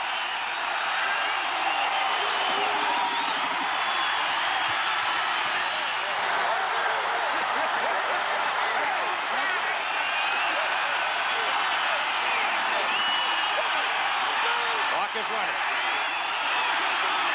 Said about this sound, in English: The crowd roared, coming down out of the stand.